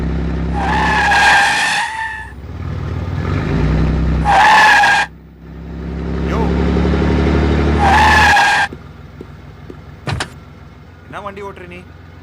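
A car skids through a scene in a Tamil horror film, with three loud, sharp tire-squeal bursts over a rumbling engine, then short clatters and a few quieter sounds.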